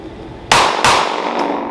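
Two sharp, loud gunshots about a third of a second apart at an outdoor shooting range, each with a bright crack and a ringing decay, fired as a practice group with no talking.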